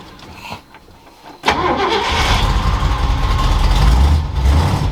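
An abandoned 1969 Ford F250 crew cab's engine cranks over loudly and close by after a brief, quieter stretch, then keeps churning steadily without a clear catch.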